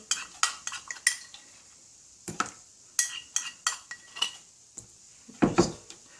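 A spoon clinks and scrapes against a cup while stirring a starch mixture for stiffening a WW2-era nurse's veil, with irregular bright taps in quick clusters, pauses between them, and one heavier knock near the end.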